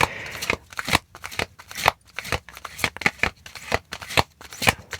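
Tarot cards are shuffled by hand in quick, rhythmic bursts of crisp flicking and slapping, close and fairly soft, with brief pauses between strokes.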